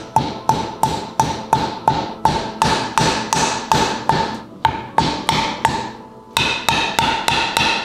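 A hammer taps on an old bearing race to seat a new race on a 300cc Grom motorcycle build. About twenty sharp metallic strikes land in a steady rhythm with one brief pause, loud and close.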